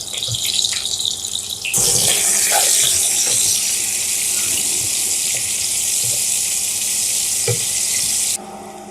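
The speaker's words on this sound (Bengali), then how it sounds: "তেলটা গরম হয়ে গেছে, এখন আমি করলাগুলো দিয়ে দিব।" Bitter gourd pieces drop into about three tablespoons of hot oil and erupt into a loud, steady sizzle that holds for several seconds before cutting off abruptly.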